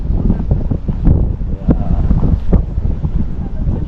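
Strong wind buffets the microphone in loud, gusty rumbles, with the low blustering roar continuing throughout the clip.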